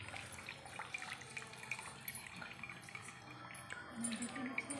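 Water drips and trickles from a tied cloth bundle of freshly made soybean paneer, a steady patter running through the whole stretch with low voices in the background.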